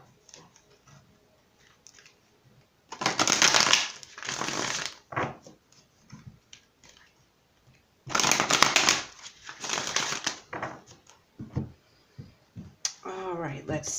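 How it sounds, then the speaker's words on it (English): Oracle emotion cards are shuffled in two long riffling bursts with shorter flicks between them, close and crisp, and a voice speaks briefly near the end. "So let's go ahead and pull an emotion card for you guys."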